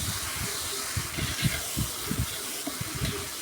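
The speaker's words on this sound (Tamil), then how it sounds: "இந்த இஞ்சி பூண்டு போட்டு மறுபடியும் நல்லா வதக்கணும்" Ginger garlic paste sizzles in hot oil while sautéing for biryani, a bright continuous hiss over soft, rhythmic bubbling pops, close up, with no talk.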